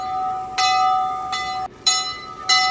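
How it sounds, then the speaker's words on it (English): A metal bell is rung in a few separate strikes, each a bright clang that rings on with a sustained hum between hits, heard fairly close with no talking. "so they liked ringing the bell"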